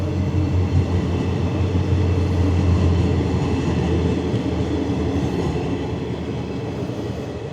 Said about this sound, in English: there's a train passing, so let's just wait that out